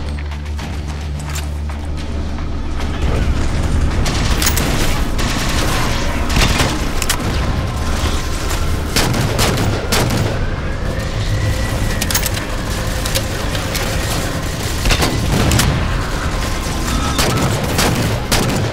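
Gunfire and explosions in Halo 4, rapid shots and heavy booms crackling over a loud, continuous battle din, with repeated sharp bursts throughout.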